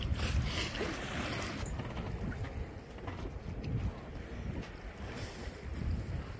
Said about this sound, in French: On entend bien l'eau qui s'éclate sur les rochers.